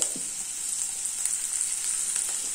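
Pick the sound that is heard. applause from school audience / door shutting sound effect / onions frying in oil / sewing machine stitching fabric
onions frying in oil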